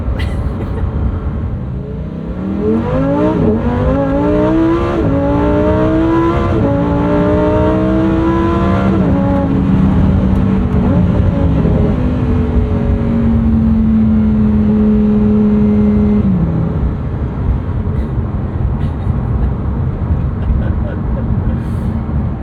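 A 2022 Lamborghini Huracán STO's V10 engine revs up through several gears, its pitch climbing and dropping with each shift before settling into a steady high drone, loud and close.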